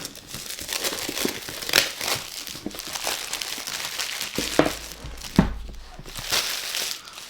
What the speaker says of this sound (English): let's get the plastic off here.